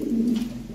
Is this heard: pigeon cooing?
yes